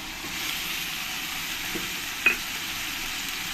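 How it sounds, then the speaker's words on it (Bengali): Onion paste frying in a pan, a steady even sizzle throughout with a brief clink of a utensil partway through. "পেঁয়াজ পেস্টটাকে আমি একটু ফ্রাই করে নেব"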